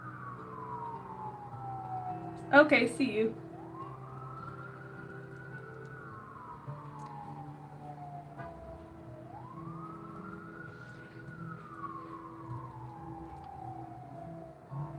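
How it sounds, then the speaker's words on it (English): An emergency siren wails in long rising and falling sweeps at a moderate distance, with a brief clatter early on and a short spoken phrase. "More sirens."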